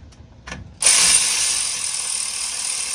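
A ratchet loosening the differential cover bolts on a 6.7 Cummins truck gives a couple of short clicks, then a loud, sustained, buzzing run close by.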